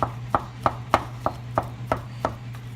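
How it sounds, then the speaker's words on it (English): Celeriac and potato being mashed by hand without a masher: eight evenly spaced, sharp thumping strikes over a low steady hum, close and fairly quiet. "it is time to start mashing"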